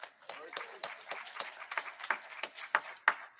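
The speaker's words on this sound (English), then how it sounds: "Give the Lord a hand clap of praise today." A church congregation claps in praise during a service, a fairly faint, steady rhythm of roughly ten distinct hand claps that grows slightly louder toward the end.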